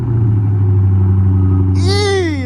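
Dodge Charger R/T on its stock exhaust at cold start: a low, steady engine drone hums throughout, then a rising, whining rev sweeps up and falls back near the end, close and loud.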